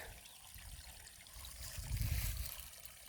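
Water trickles and gurgles steadily through a dug ditch, faint and close, swelling briefly louder partway through.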